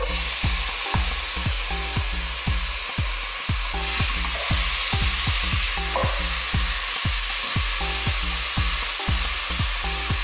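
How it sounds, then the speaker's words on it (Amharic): Onions fry in oil for an Ethiopian red lentil misir wot, a loud continuous sizzle broken by steady, rhythmic stirring scrapes, close up and without speech. "ሽንኩርትና ዘይቱን አብረን እንጠብሳለን።"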